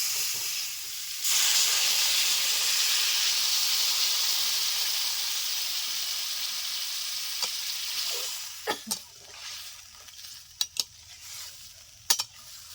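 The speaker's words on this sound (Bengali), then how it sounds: "এটা ভাজা ভাজা হয়েছে এখন জল দিয়ে দেবেন" Water is poured onto fried spices in a pan, setting off a loud burst of sizzling and steaming hiss that gradually fades, followed by a few sharp spoon clinks against the pan.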